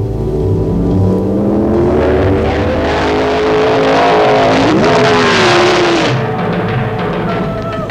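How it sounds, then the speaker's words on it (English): The V6 engine of a 1972 Flaming Fire Red Ferrari Dino 246 GT Pininfarina revs loudly and close up, its pitch climbing through the gears over a constant roar before easing off near the end. "prize package number 158 is a brand new 1972 Flaming Fire Red 246 GT Pininfarina Dino Ferrari."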